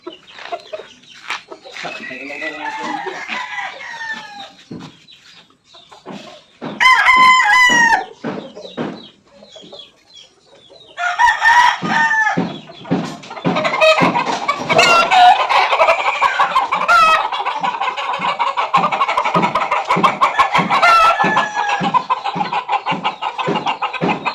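Gamefowl fighting roosters kept in pens on a game farm, crowing repeatedly with harmonic calls and clucking, loud and close, with bursts of crowing overlapping among several birds; a person talks briefly between calls.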